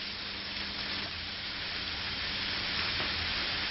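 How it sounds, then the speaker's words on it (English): Steak sizzles in a pan on a stove top over medium-high heat, a constant dense hiss that stays even and moderately loud, with no voices or other sounds. "And we're ready to start let it sizzle."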